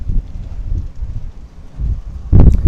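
Strong wind buffets a microphone outdoors before an interview at a high school Cedar Park Timberwolves game, giving a deep, uneven rumble that surges and drops, with a louder gust at the end and no speech.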